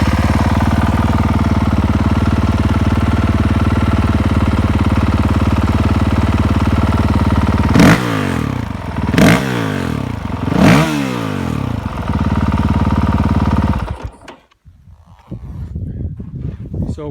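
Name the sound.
2019 Honda CRF450X dirt bike engine with Pro Circuit exhaust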